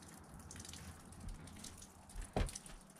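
Meltwater from ice streams and drips off a truck roof on a warm day, a steady watery patter with a brief louder splash near the end, fairly close and with no talk.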